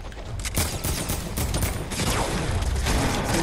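Gunfire in the video game Fortnite, a loud cluster of sharp shotgun blasts at close range, with several bursts following one another over a busy, constant game backdrop.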